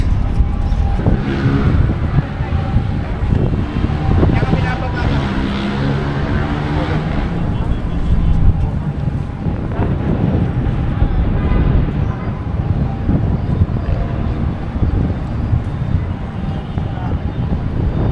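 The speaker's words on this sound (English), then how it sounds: "Gee, it's pretty windy." Gusty wind buffets the microphone with low rumbling noise, mixed with traffic-like roar, while a voice talks intermittently.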